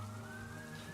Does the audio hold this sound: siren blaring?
yes